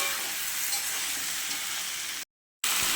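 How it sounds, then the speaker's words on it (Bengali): Fish head and pointed gourd sautéing in a pan for a potato and pointed gourd curry, giving a dense, continuous sizzle close up that cuts out briefly before resuming. "পটলটা একটু ভেজে রেখেছিলাম, আর মাথাটা দিয়ে একটু কষিয়ে নেব।"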